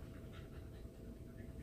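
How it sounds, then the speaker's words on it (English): A dog breathes hard and fast indoors after a walk in hot weather, a steady close panting that runs throughout without pause. "it's hot out, so he's breathing kind of hard"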